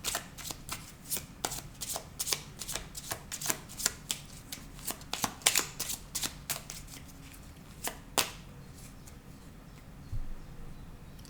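Tarot cards being shuffled and cut by hand, a close run of crisp riffling slaps and flicks in quick irregular bursts, quieter toward the end, no talk.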